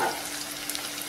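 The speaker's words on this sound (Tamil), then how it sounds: "பூண்டு வெங்காயம் வதங்கின பிறகு போடுவோம். நல்லா வெங்காயம் பூண்டு ப்ரௌன் கலரில் வரட்டும்." Onion and garlic sauté in a pan with a steady close hiss and fine crackling sizzle, continuous and fairly loud with no voices over it.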